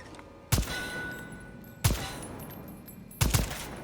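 Three loud gunshot bursts in the co-op dinosaur shooter Second Extinction, spaced roughly a second apart, each a sharp crack with a brief rumbling tail over a steady game background.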